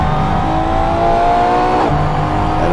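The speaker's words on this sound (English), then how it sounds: "It's got a Formula 3 car, a Tatuus" A Tatuus Formula 3 race car at Spa drones at steady high revs, its engine note sliding briefly in pitch before settling again, loud and close throughout with no talking.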